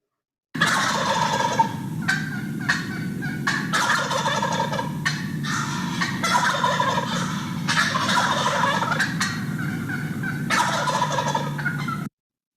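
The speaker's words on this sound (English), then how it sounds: "the first vocalization that we're going to play is the gobble" Male wild turkey gobbling, a loud, rapid gurgling call repeated in several bursts over about twelve seconds, clear and close with no talking.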